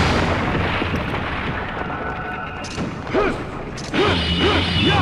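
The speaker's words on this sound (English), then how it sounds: "can I use my rocket launcher to hit it from here?" A rocket launcher fires in Devil May Cry 2, and its explosions go off as loud, broad booms and crashes over a continuous rumble of game sound, with sharper blasts near the end.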